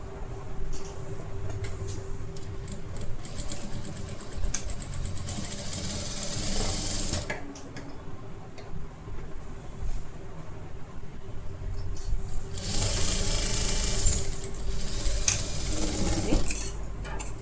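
A sewing machine stitching a princess-cut blouse whirs loudly in fast bursts, pausing and restarting, with rattling mechanical clatter between runs and no talk.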